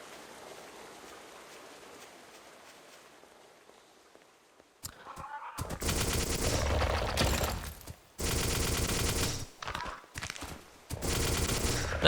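Bursts of gunfire from an odd-looking weapon in a video game, several loud, dense volleys broken by short gaps, coming after a quiet stretch.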